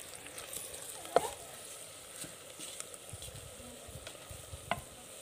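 Garlic paste fries with bitter gourd in a pan for karela salan, a faint, low sizzle with a couple of sharp utensil clinks against the pan.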